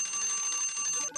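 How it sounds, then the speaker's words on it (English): Timer alarm ringing as a bright, rapid electronic beeping that continues steadily and loudly, with a brief dip near the end, and no one talking. "There's the timer."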